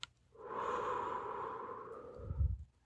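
A single long exhale during a guided gratitude breathing and relaxation exercise, a soft breathy rush that swells, holds steadily, then fades, ending with a low puff of air, close and alone without talk.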